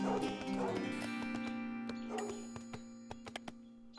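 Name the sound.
dog barking in the video game 0 A.D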